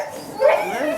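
Dog vocalizing, a short whining yelp with a rising and falling pitch, close and fairly loud, lasting under a second.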